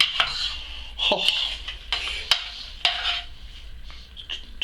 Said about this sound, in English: Give that a stir up.